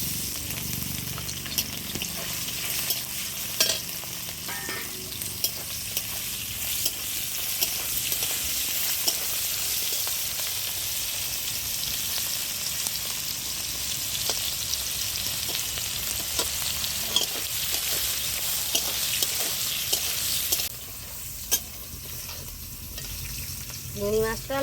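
Prawns fry in hot oil in a kadai with a loud, continuous hissing sizzle throughout. Occasional clinks and stirring scrapes rise above it, and the sizzle drops slightly near the end.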